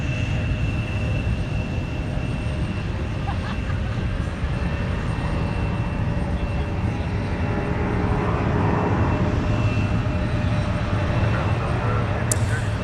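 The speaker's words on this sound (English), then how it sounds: "4056, operated by Mesa Airlines for United Express, headed to Houston Intercontinental" A Mesa Airlines United Express regional jet, Air Shuttle 4056 headed to Houston, at Minneapolis–St. Paul airport, producing a steady distant engine roar and rumble alongside a thin whine, with a brief click near the end.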